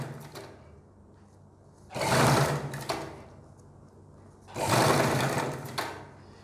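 An electric sewing machine stitches a neck design on a garment in two loud, close whirring runs of about a second each. The runs are separated by quieter pauses with faint handling noise.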